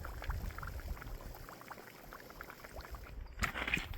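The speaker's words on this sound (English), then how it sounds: "If you listen, it sounds like boiling water." Gas bubbles up through water at a coal mine bore hole, making a faint, continuous burble and gurgle like boiling water, with a slightly louder splashy stretch near the end.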